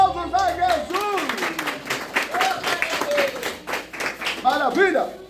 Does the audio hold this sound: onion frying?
no